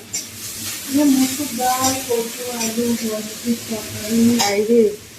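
A home curry of taro, potato and long beans sizzles and bubbles in a pan, with soft stirring scrapes beneath a person talking throughout.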